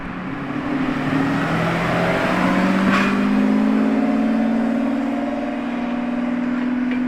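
An orange Lamborghini Revuelto's engine drones loudly and steadily, its pitch climbing slowly as the revs build, with a brief sharp noise partway through.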